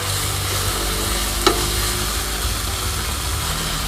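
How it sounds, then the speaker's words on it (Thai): Sugar stir-fried with curry paste in a pan at an outdoor camp-style kitchen for crispy pork rind, heard as a steady loud sizzle and scraping stir, with one sharp clink midway and no talking. "ให้เราใส่น้ำตาลลงไปค่ะ ประมาณ 100 กรัมนะคะ ผัดจนกว่าน้ำตาลเราจะละลายนะคะ"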